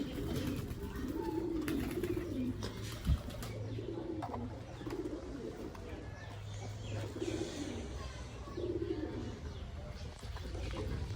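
Domestic pigeons cooing repeatedly at close range while feeding, soft rhythmic coos recurring throughout over a steady background hum, with occasional faint chirps and a brief flap.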